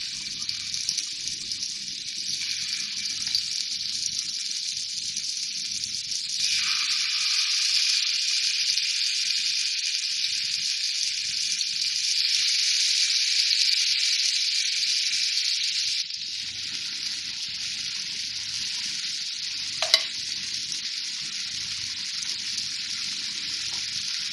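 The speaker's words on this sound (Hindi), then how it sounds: "तो अब मैं चिकन के पीसेस डाल रही हूँ इसमें, और इसको ज़रा तेज़ आंच पे करना है" Chicken pieces sizzle in hot oil in a pan over high heat for a butter chicken dish, a steady, close hiss that swells louder in the middle and settles back, with one brief clatter near the end.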